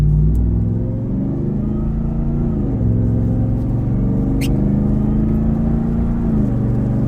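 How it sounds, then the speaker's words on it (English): A Ram TRX pickup's exhaust rumbles loud and close, holding a deep steady drone with slight shifts in pitch throughout. "And there we go with some exhaust note from the Ram TRX truck."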